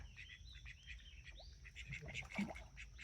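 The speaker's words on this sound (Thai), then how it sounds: "นี่น้องเป็ดนะครับ น้องเป็ดเต็มเลย" Ducks kept at a small roadside cafe give faint, scattered quacks and chirpy calls over a low background hum, with no one talking.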